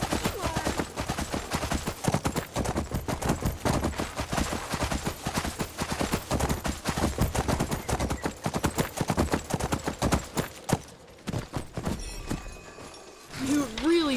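Rapid rhythmic hoofbeats clatter continuously in heavily modded Skyrim, mixed with bursts of gunfire and game effects, then fade near the end with a brief whinny.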